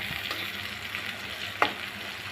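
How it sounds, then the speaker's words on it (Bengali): Pointed gourd (potol) fries in hot oil in a pan with a steady, close sizzle, and a single sharp clink or stir is heard partway through. "এই পিঠ ও পিঠ পাল্টিয়ে ভালো করে আমি পটলটা ভেজে নেব"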